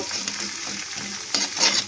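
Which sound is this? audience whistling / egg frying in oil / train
egg frying in oil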